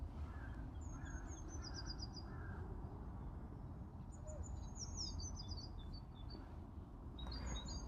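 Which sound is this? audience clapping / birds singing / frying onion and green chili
birds singing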